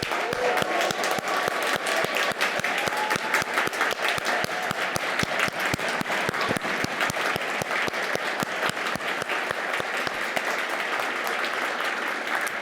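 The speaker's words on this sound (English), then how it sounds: "Let's give them one more round of applause." An audience at a medical school white coat ceremony gives a long round of applause, with sharp individual claps standing out over a dense, even wash that holds steady throughout.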